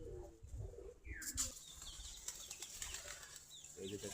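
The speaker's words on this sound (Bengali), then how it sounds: "এখন আমি খাবার দেবো কবুতরকে।" Domestic Giribaz pigeons at morning feeding on wheat give soft coos, then a burst of wing flapping, faint and close, with low murmuring coos returning at the end.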